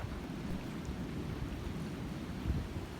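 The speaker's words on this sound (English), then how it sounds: "It's very windy today though." Steady wind buffets the microphone in a low, continuous rumble, with no other distinct sounds.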